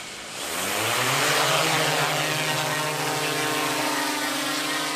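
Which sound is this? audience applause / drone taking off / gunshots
drone taking off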